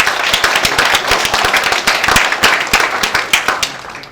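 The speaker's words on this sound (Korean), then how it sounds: "여러분 환영의 박수 부탁드리겠습니다" An audience at a Busan unification forum event claps in welcome for a newspaper reporter, a dense, steady patter of many hands carrying on evenly throughout at fairly close range.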